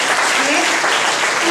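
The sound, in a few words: congregation applause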